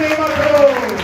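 A congregation claps in praise at a fasting prayer service: a steady, dense patter of hands across the whole short moment, mixed with voices.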